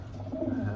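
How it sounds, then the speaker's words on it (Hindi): Pigeons kept by a fancier coo in a brief, soft burst, a low throaty warble heard close by with no voices over it. "बढ़िया कबूतर हैं साबिर भाई के"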